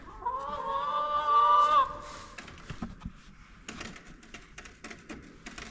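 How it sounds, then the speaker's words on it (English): A hen gives a drawn-out, high clucking call, then scattered soft clucks and pecking clicks follow nearby on a farm. "check on the chickens real quick."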